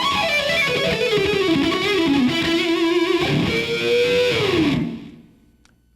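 Distorted electric guitar plays a smooth, sustained bluesy line with bending notes, loud and up close, then cuts off and rings out into near silence.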